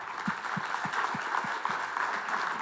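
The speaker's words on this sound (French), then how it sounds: "je vous demande de les applaudir" A small crowd applauds steadily at moderate distance, a soft continuous patter with a few louder individual claps standing out.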